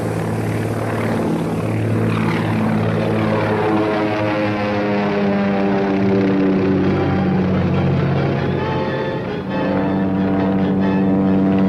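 Propeller airplane engines drone steadily and loudly, a constant rich humming roar that holds throughout with only a slight dip near the end, no voices.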